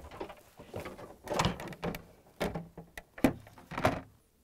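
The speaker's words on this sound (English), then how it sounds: "Then we're going to lift up the drawer and we can remove it." A Samsung freezer drawer is lifted up and pulled out, giving a few separate plastic clunks, rattles and sliding scrapes, moderately loud and close with short pauses between them.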